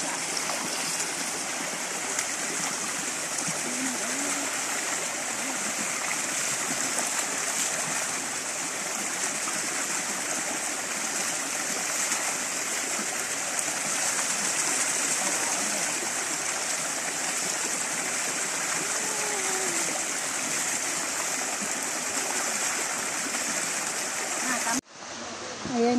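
A waterfall in a cool forested spot pours continuously, a loud steady roar of falling water holding unchanged for a long stretch before cutting off abruptly near the end.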